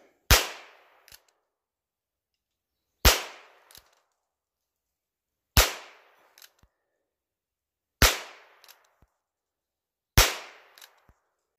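Five sharp pistol shots from a Walther fired at targets outdoors, spaced about two to three seconds apart, each a loud crack with a quick decaying ring and small clicks between shots.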